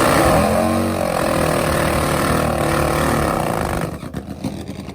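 Drag-racing motorcycle engines at a drag strip, including a nitrous Pro Mod bike, a loud sustained roar that cuts off into quieter rumbling pops near the end.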